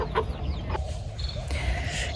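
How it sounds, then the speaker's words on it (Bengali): Brief squawks and clucks of chickens and ducks fighting inside a coop, agitated calls over a low rumbling background. "হাঁস মুরগিগুলো কীভাবে মারামারি করতে আছে এটার ভিতরে খোপের ভিতরে সাউন্ড শোনা যাইতে আছে ওদের মারামারির"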